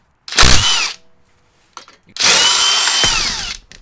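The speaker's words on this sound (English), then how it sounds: "You just undid all 5 of my lug nuts." A power tool zips loose the wheel lug nuts on a Jeep Grand Cherokee in two loud, close bursts, a short one and then a longer one, separated by a brief quiet pause.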